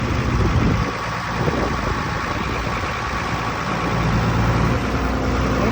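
A Ford 8000 tractor engine runs steadily at a low, rumbling idle as its Dual Power transmission is shifted into low; no distinct shift clunk stands out over the continuous drone.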